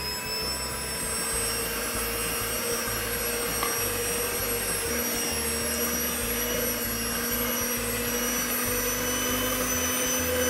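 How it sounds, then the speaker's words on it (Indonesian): Electric mixer kneading chocolate chip white bread dough without eggs while water is poured in, a steady close motor whine with a drop in pitch about halfway through and no talking. "Ini kita nuangin airnya sambil kita mixer ya."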